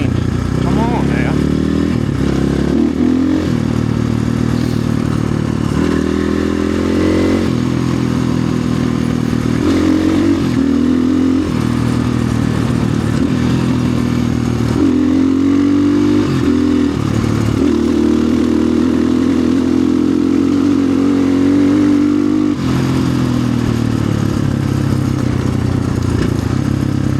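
A Chinese dual-sport dirt bike runs on a West Virginia trail, its engine droning loud and close with shifting revs and rattling clatter from the rough ground, while a rider talks over it.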